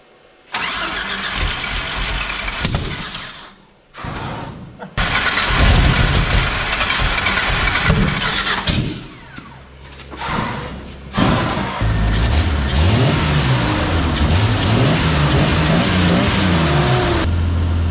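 A big-motored Eliminator car engine cranks several times and then catches, then idles and revs loudly in repeated surges, close and alone.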